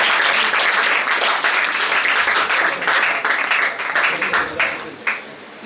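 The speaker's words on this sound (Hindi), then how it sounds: "ताली बजाएं।" An audience at a GS debate competition claps in loud, dense applause that stays sustained, then thins out and fades toward the end.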